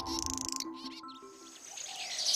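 Baya weaver birds calling near their nests by a lake, a mix of buzzy chirps and high twittering calls, fairly close and continuous, with insect-like trilling in the background.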